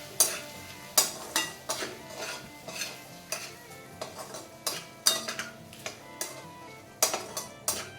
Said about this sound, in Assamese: গোটেইখিনি বিলাহী ভালদৰে লৰাই দিছোঁ।